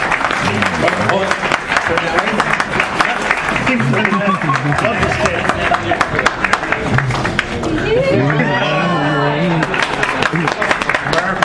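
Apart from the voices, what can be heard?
audience round of applause at comicon costume contest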